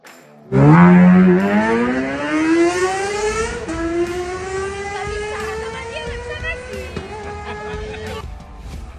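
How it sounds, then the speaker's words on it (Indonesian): A loud Kawasaki 250cc sportbike engine roars up from idle, its pitch climbing steadily as it revs and accelerates, with a shift and another rising pull near the end. "kalian bisa menikmati suara raungan mesin moge"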